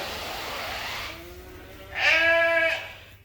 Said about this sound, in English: We got the replacement ewe lambs at the back for now.